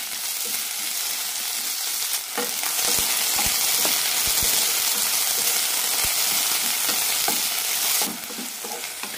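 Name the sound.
ivy gourd sautéing in oil in a pan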